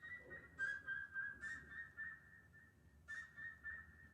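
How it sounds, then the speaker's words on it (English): A high-pitched, flute-like sampled melody plays in short sustained notes with a slight echoing delay, clear and alone over a faint background. "It's sort of like a flute-type sample."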